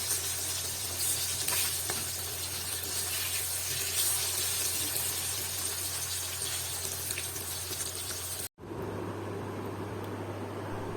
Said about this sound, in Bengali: তো মাছগুলো আমি ভেজে নিচ্ছি।